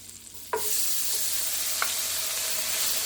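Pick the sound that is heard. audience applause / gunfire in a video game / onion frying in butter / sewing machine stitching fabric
onion frying in butter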